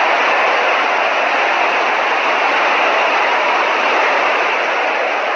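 Floodwater rushes through a flooded subway tunnel in Zhengzhou, Henan province, as a steady, dense, hissing roar with no breaks from start to finish.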